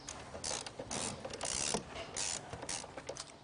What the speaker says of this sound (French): Nous pouvons serrer la fixation de la batterie.